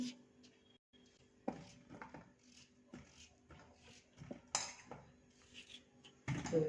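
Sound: cutting potatoes into medium pieces

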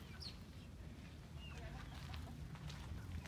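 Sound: chickens clucking

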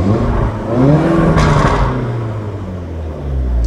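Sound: Audi TT 2.0 turbo engine revving, turbocharger whistling

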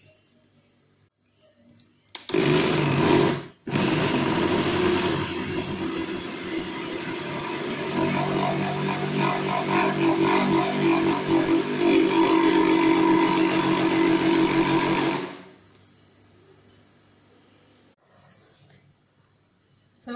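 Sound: electric blender grinding crêpe batter

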